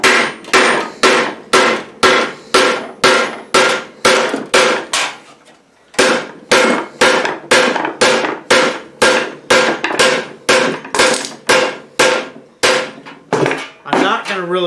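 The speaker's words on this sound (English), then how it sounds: "Using the rawhide mallet, I've hammered it all along one edge." A rawhide mallet strikes repeatedly along the edge of a metal greave, a steady run of sharp, close, loud blows at about two or three per second with a short pause partway through, alone without talk.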